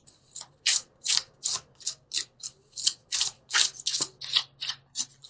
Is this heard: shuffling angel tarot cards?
yes